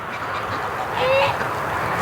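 Ducks quacking outdoors on a farm, a few nasal honks rising over a steady wind-like background, mid-distance and moderately loud.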